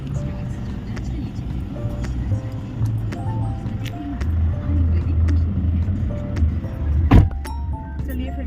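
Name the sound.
car driving, heard from inside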